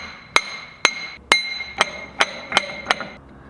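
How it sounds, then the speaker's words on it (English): Seven sharp metallic hammer blows ring out one after another at a steady, slightly quickening pace as a vise nut is knocked out of an old Prentiss No.22 bench vise. Each strike is close and bright with a short ringing tail. "Now we can pop out that vise nut before we get this thing soaking to break everything loose."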